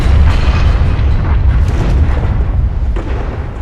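A massive explosion in a film, set off after a fuse is relit in a frozen world where cannibals attack, booms as one continuous deep, loud roar with rumbling debris throughout, no voices.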